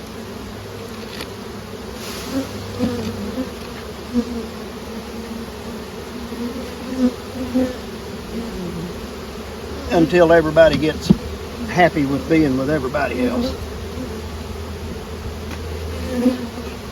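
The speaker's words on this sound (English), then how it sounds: "every super's full of bees" Honey bees from a small swarm hum continuously over hive frames of comb with nurse bees, a steady close drone that swells louder partway through, while someone talks.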